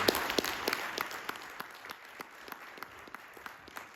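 An audience at an architects' and engineers' meeting on fire-safe construction claps steadily for a few seconds, a dense patter of hands with a few sharp individual claps standing out, and no voices over it.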